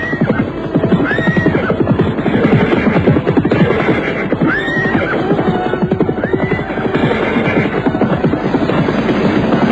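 Several horses neigh and whinny in shrill rising calls over a dense rumble of hooves clip-clopping, loud and busy throughout.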